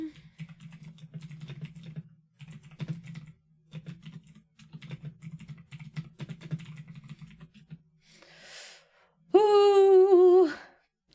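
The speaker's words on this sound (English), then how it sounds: "Sorry that I'm typing loud as fuck." Loud, rapid typing on a computer keyboard fills most of the stretch in uneven bursts of clacking keys up close, followed by a brief breathy noise and a short high-pitched vocal sound near the end.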